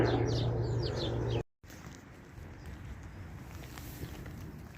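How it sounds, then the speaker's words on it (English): Birdsong on an almost-spring outdoor walk: bright chirps and trills over a background hiss, cut off by a brief dropout, then a quieter outdoor ambience with faint scattered calls and soft steps. "I love the sound of birds singing."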